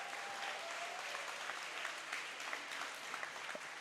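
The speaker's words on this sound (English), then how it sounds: "it looks like our guys standing and being cheered and enjoying the crowd" A large arena crowd at a Dota 2 esports tournament final applauds the champions, steady dense clapping with scattered cheers filling the space for the whole stretch, fairly distant and even.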